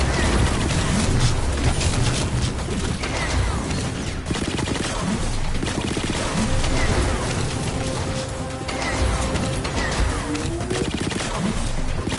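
Sustained gunfire in the sci-fi game Starlink rattles loudly and continuously, with dense rapid bursts and crashing impacts layered throughout, mixed with some voices.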